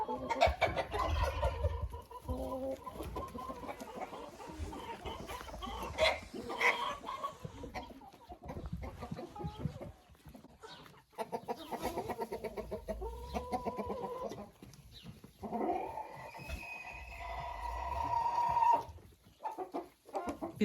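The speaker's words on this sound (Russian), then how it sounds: "Петух зовет всех кур в курятник, приглашает." A rooster calls hens into a chicken coop with repeated clucks and low calls, nearby hens clucking and a brief crow-like cry, in a busy farmyard.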